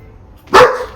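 A single dog bark bursts out mid-clip in a home, loud and close, following a quiet stretch of room tone and trailing off afterward.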